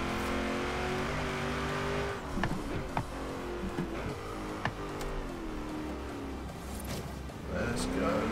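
A race car in Forza Horizon 3 accelerates hard, its engine droning steadily and rising through gear changes, with a few sharp transient knocks along the way and a voice talking over it.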